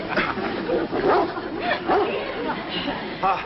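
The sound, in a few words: dogs barking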